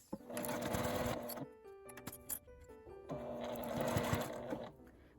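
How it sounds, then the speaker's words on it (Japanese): A sewing machine stitches a small quilted nubi fabric pouch in two steady bursts of rapid mechanical whirring, with a brief pause of ticking and clicks between them. "軽く縫ってから開いて合ってるか確認します。"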